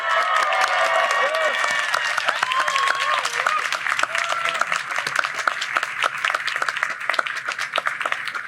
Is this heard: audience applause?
yes